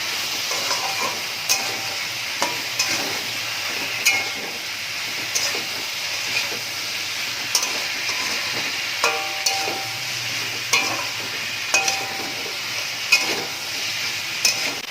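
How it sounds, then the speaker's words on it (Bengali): Spices and vegetables fry together in a pan for a fish curry, a steady sizzle broken by regular scraping strokes of stirring, close and loud, with no voices. "মশলাটা বেশ ভাজা ভাজা হয়ে এসছে"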